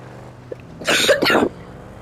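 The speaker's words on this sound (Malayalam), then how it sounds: "ചുമ ചുമ ചുമ ചുമ ചുമ ചുമ" A short burst of coughing, two rough harsh coughs in quick succession, close and fairly loud against a quiet background.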